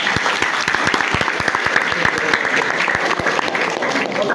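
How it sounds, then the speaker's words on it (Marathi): Students and parents at an English school guidance meeting break into loud, sustained applause, many hands clapping in a brisk, uneven patter that stays close and full throughout. "टाळ्या वाजवा तुमच्यासाठी."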